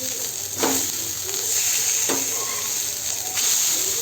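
Surmai fish frying in oil on a hot tava sizzles with a steady, loud hiss throughout, broken now and then by brief scraping as the pieces are turned.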